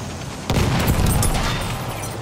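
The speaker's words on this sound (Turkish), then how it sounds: "Dikkat eyleyin makinalı tüfek!" Machine gun fire in the video game Battlefield 1, a dense sustained burst of rapid shots that starts abruptly and holds loud to the end, without talk.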